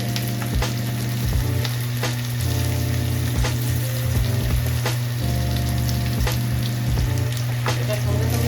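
Green chilli and crushed garlic hit hot oil for a soya chilli dish, giving a steady, close sizzle with a continuous frying hiss and occasional clicks of a stirring spoon.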